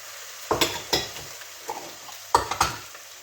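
Potatoes and carrots being stirred in hot oil in a pot for lentil soup: a steady sizzle with several distinct scraping stirs and clacks of the utensil against the pan, close and fairly quiet, no talking.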